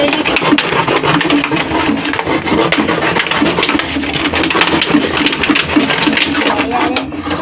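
A heated knife cuts into a plastic container, giving a continuous grinding, rasping noise that fills the whole stretch at steady loudness, close by, with no clear voices.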